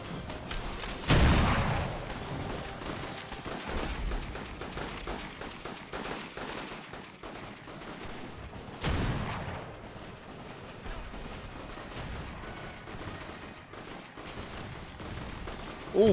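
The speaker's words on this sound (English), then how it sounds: "there goes the big gun firing off in the background" Big gun on a land carrier in an airship strategy video game firing explosive shells, with two heavy booming blasts standing out over a continuous din of distant gunfire and rumbling battle noise.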